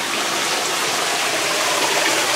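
Water pours steadily down a water wall at a haunted tent attraction, a dense, continuous hiss and splash that stays loud and even throughout with no voices.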